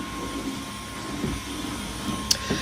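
Vacuum cleaner running in another room, a steady faint motor drone with a constant hum, a few soft bumps and one sharp click.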